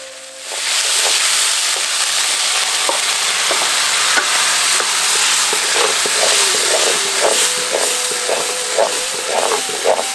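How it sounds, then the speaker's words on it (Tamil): Ground coconut being stirred into hot ghee holding fried cashews and raisins for a temple-style coconut milk sweet, giving a loud, steady sizzle with regular scraping strokes of the spoon against the pan. "முந்திரி திராட்சை வறுத்த நெய்யிலேயே அரைச்சு வச்சிருந்த தேங்காய் பருப்பு சேர்த்து நல்லா கிளறி விட ஆரம்பிச்சிருவோம்."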